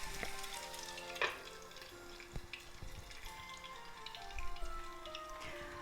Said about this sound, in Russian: Жарим до образования золотистой корочки.